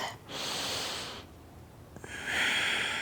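Two long, close breaths during a gentle third-trimester prenatal yoga stretch, a breathy rush, a quiet gap, then a second stronger breath, with no talk over them.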